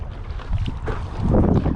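Wind buffets the microphone while someone paddles an inflatable Isle Explorer standup paddle board into a headwind. Low rumbling gusts rise and fall and grow stronger toward the end, with faint water sounds beneath and no talk.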